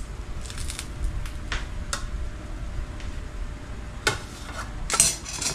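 Shrimp paste (alamang) sautés in a pan with a soft sizzle as a metal utensil scrapes and clinks against the pan in irregular stirring strokes, close and moderately loud, without talk.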